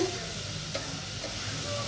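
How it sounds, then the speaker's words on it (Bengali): Onion frying in a pan with salt, a steady soft sizzle and faint stirring scrapes going on throughout at a moderate level, with no voices. "এখন আমি পেঁয়াজটি ভালো করে ভাজবো।"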